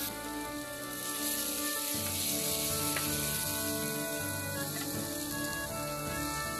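Onions frying with salt in a pan of mustard oil, a continuous close sizzle with crackles and light stirring sounds running without pause.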